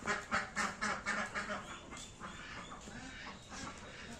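Ducks on an egg-laying farm quacking inside a duck house, a dense cluster of loud, rhythmic calls up close that thin out into a softer, scattered chorus.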